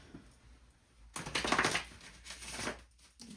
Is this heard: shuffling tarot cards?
yes